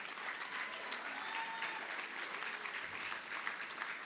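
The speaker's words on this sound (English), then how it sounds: "Make some noise for Kamehameha." Sustained applause from an event audience at a school gathering in Hawaii, a steady dense wash of clapping with some cheering mixed in, moderately distant and continuous throughout.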